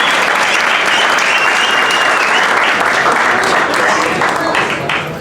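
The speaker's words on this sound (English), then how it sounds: "I think boxing is back and it deserves a big round of applause" A crowd at a boxing press conference in a Johannesburg venue applauds loudly and continuously, the dense clapping holding steady before easing slightly at the end.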